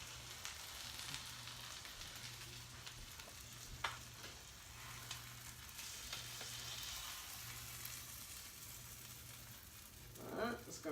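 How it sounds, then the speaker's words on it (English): Steady, soft sizzling and crackling of roast beef frying in a pan, with a low intermittent hum underneath and a brief clatter near the end. "I don't know if you can hear it, but it's most definitely sizzling"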